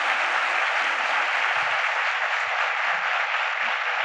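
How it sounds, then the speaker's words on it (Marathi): An audience claps together in sustained, dense applause, loud and steady throughout with no voices standing out. "आपण सगळ्यांनी टाळ्या वाजवून दादांची कृतज्ञता व्यक्त करूयात."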